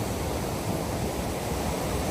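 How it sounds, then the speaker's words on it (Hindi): Fast-flowing river water at the Canada–US border rushes in a loud, dense, unbroken roar close by, with no voices over it. "इतना खूबसूरत पानी है, कलर देखो इसका, और इतना तेज़"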